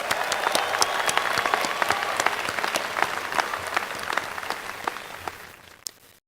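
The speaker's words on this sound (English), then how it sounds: "You can applaud yourselves." Sustained applause from a large crowd at a graduation commencement ceremony, steady dense clapping that fades slightly toward the end, with no voices over it.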